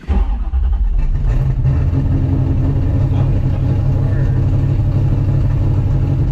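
A 1966 Mustang GT350, modernized, runs with a steady, loud, low engine rumble that holds evenly from start to end, with no clear revving.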